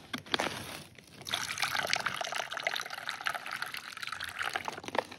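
Water pours and trickles into a cup outdoors in the Eifel forest, a steady close splashing stream running for several seconds after a brief first splash.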